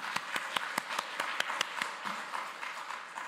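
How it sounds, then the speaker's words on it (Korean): A church congregation at a dedication service claps in quick, even unison beats, close and lively, before the rhythm loosens into scattered applause. "하나님께 감사의 박수, 영광의 박수 올려드립니다"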